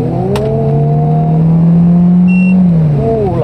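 A 2012 Peugeot 3008 turbo engine revs hard on kick-down, a loud sustained drone holding high rpm for a few seconds, then rising again at the end.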